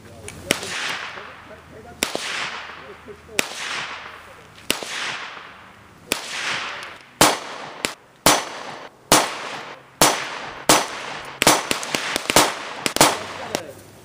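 A Taurus 605 revolver fires .357 Magnum 158-grain rounds and then 9mm rounds, about sixteen sharp, loud reports that start spaced apart and come faster later, each with a short ringing decay and no talk between.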